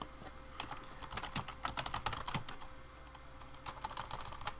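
Someone types on a computer keyboard, producing quiet, close, irregular clusters of rapid key clicks with brief pauses between bursts.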